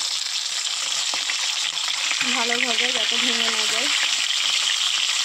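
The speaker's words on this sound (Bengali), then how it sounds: "এবার আমরা এটাকে ভালোভাবে ভেজে নিব" Rui fish frying in hot oil, a loud continuous close sizzle with a brief spoken comment over it partway through.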